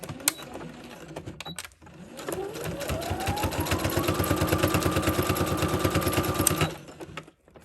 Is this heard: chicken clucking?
no